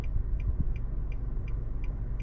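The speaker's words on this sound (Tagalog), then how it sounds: "antayin ko lang makadaan tong isang kotse" A car passes by on a road in Corrales, New Mexico, a low continuous rumble close by, with a faint, regular high ticking repeating steadily above it.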